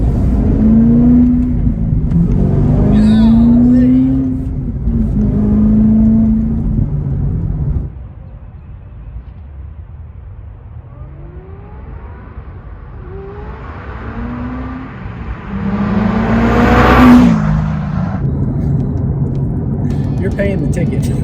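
A C6 Corvette ZR1 engine revs loudly while driving, climbing through gears in rising sweeps, easing off midway, then pulling hard again, with people talking over it.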